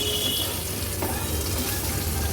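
Bangda mackerel frying over low to medium flame in a pan for an Agri Koli style fish thali, a steady close sizzle with a faint scrape as a fish is turned.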